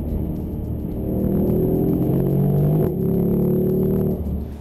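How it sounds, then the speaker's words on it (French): A Mercedes E-Class E63 AMG V8 accelerates hard, its loud, deep engine note climbing in pitch, briefly dipping at a gear change, then pulling upward again as a continuous roar with no voices. "la sonorité de ce V8 qui nous colle au siège à chaque accélération"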